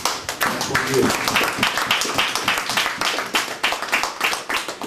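A church congregation claps for the Lord, a loud, lively round of many hands with a quick, slightly rhythmic pulse and a voice briefly heard early on.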